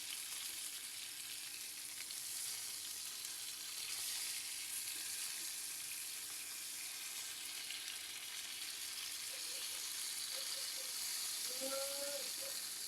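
Tilapia fish frying in oil in a pan, a steady, continuous sizzle and hiss at close range that holds evenly throughout, with a few faint crackles near the end.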